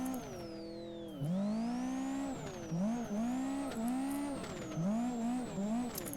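Nissan Silvia S14 in Live for Speed, fitted with a randomly chosen exhaust sound on a drift map: a loud, steady engine and exhaust drone that rises through the revs, drops sharply at a shift near the start, then swings up and down in repeated throttle surges.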